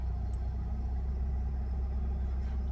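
A fuel-injected 1986 Alfa Romeo Spider idles after a cold start with no throttle, a steady, close, low rumbling drone that stays even throughout.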